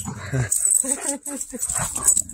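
A dog gives short whimpering yips and whines up close, several brief cries in quick succession that sound almost like a voice, with no clear words.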